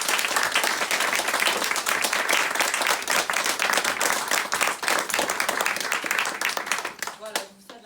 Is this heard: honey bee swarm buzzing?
no